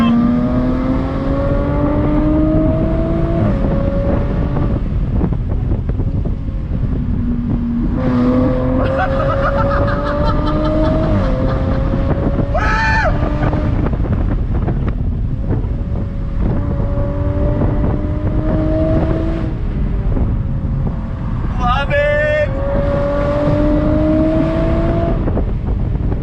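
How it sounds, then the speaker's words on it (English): A 2021 Jaguar F-Type R-Dynamic with its supercharged six-cylinder engine accelerates with the top down, its loud engine note climbing through repeated gear pulls, each rise ending in a brief shift, under strong wind rush. "I want to hear more of that supercharged 6-cylinder goodness."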